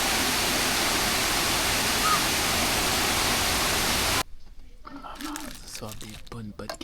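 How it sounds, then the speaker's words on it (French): Waterfall during a canoe and kayak trip in the Dordogne, a loud steady broadband roar filling the first four seconds, then cutting off abruptly to quieter scattered sounds and voices. "Je sais pas si on va m'entendre avec la cascade"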